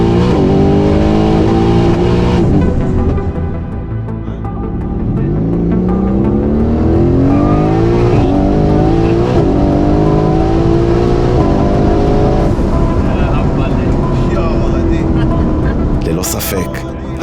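Mercedes-AMG GT S with a twin-turbo V8 tuned to 1327 hp accelerating hard: loud, close engine roar climbing in pitch through rapid upshifts, each gear change dropping the note before it climbs again.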